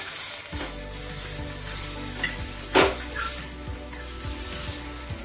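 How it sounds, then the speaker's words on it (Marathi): Green chili thecha is crushed in a pan off the heat, with a soft lingering sizzle under repeated rhythmic scraping strokes and an occasional sharp metal clink, close and moderately loud. "इथं आपल्याला आता हा ठेचा रगडून घ्यायचा आहे"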